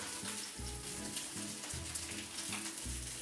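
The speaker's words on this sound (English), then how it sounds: "we're going to sear that on both sides" Sausage sears steadily in a hot frying pan, a constant crackling hiss close up, with a soft rhythmic low hum underneath.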